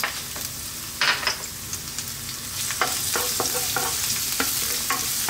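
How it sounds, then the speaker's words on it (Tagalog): Garlic sautés in hot cooking oil in a pan, a steady sizzle broken by sharp crackles and the scrape of stirring, loud and close with no voices. "Siyempre po, ang first step, magigisa tayo. Unahin natin yung ating garlic."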